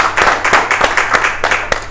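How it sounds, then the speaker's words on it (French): Studio audience applauding steadily in a live talk show, a dense run of hand claps with rhythmic peaks throughout, moderately loud and alone without talk. "Alors, on applaudit pour Fallo."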